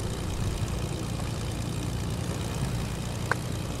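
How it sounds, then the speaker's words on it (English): A propeller airplane passes overhead during a video game tournament match, giving a faint, steady low engine drone that hums evenly throughout, with no talking. "Oh no, another plane. Above us. Plane above us."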